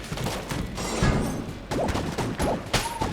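A fish-shaped gun firing in the video game Enter the Gungeon, a few sharp punchy shots and splashy impacts over a busy, noisy game soundtrack.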